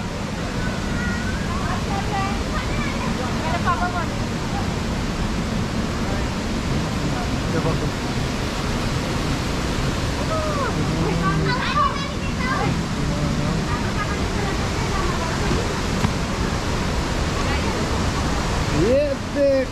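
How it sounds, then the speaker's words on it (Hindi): A waterfall formed by a landslide near Gangtok, Sikkim, roars as a steady, broad rush of falling water throughout, with brief voices faintly audible over it. "ये देखो दूसरा वाला झरना जो कि लैंडस्लाइड ने बनाया है ना"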